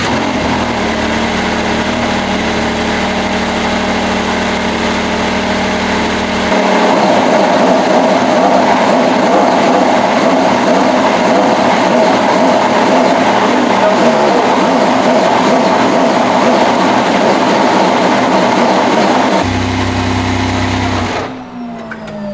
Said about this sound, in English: so to switch the engine on,